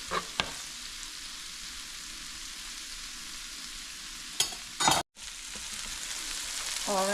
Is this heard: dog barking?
no